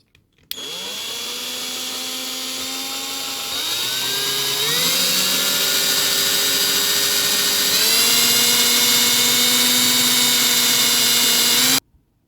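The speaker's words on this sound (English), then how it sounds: "So I've just attached it to a rotary drill, or you could use a Dremel as well." A rotary drill whines continuously at high speed, its pitch rising in steps as it sands a round edge on a small model tank part, loud and close with no talking.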